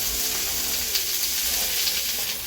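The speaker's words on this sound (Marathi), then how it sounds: "असं आता मी कांदा भाजते आणि लसूण आणि थोडंसं आपल्याला हे तेल टाकायचं आहे" Onion and garlic frying in hot oil in a pan, a steady, close, bright sizzle that hisses continuously without pause.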